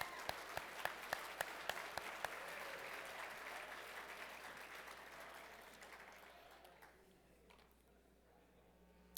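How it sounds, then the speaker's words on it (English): Applause from a gala audience at a charity auction, sharp close claps at first, then a broad wash of clapping that swells and slowly fades away, with a faint voice under it. "How about a round of applause for these awesome donations?"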